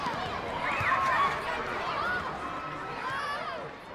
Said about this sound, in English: perhaps a busy village